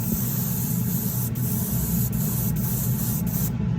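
An airbrush sprays paint as a steady, close, airy hiss with a low rumbling undertone, running continuously for a few seconds with brief faint ticks before stopping just at the end.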